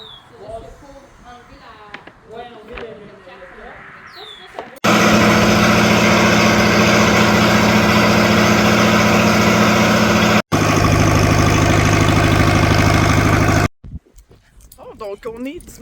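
A small farm tractor, newly repaired, sits idling. After a few seconds of people talking, its engine kicks in with a loud, steady throb, cuts out briefly, resumes, then stops abruptly.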